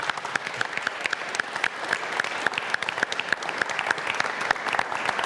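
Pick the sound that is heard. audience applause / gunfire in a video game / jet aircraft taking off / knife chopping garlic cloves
audience applause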